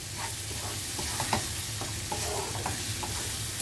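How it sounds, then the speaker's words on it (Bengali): Spice masala sautéing in a pan for Kerala-style chicken, with a steady close sizzle and repeated scraping stirs of the spoon against the pan throughout. "দেখো মশলাটাকে ঠিক এইভাবে অনেকক্ষণ সময় ধরে কষিয়ে নিতে হবে"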